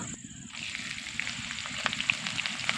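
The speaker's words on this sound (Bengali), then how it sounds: "এবার আমি পেঁয়াজগুলোকে নরম করে ভেজে নেব" Chopped onions fry in a pan for a Bengali snakehead fish curry (shol macher kaliya). After a brief quiet start, a close, steady crackling sizzle holds throughout.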